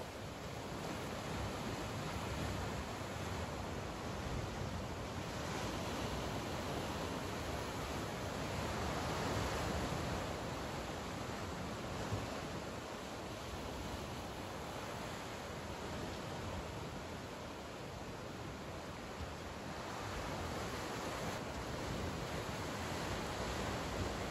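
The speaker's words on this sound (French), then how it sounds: "Écoutez le bruit des vagues." Steady, broad wash of ocean surf breaking on a seashore, continuous and even with gentle swells in intensity, fairly soft and with no voices over it.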